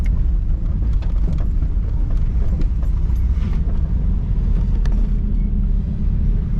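A 1983 Mercury Capri RS, moving under its own power after sitting nine years with a carburetor fault, gives a steady, loud low rumble while driving.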